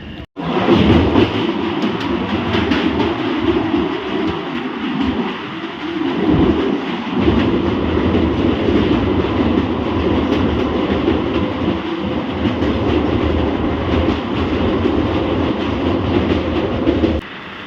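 A train arriving at Sadura station on the Srinagar–Banihal line in Kashmir rumbles steadily and loudly close by, with a continuous rolling roar and faint rhythmic clatter of wheels, no voices.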